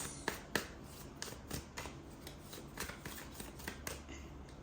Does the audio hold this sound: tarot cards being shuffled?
yes